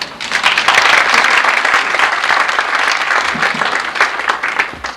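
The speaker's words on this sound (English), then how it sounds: "Let's greet Denise and give all contestants a round of applause." An audience gives contestants a round of applause at a Jeopardy-style game show staged as a presentation, loud continuous clapping that swells early then slowly tapers.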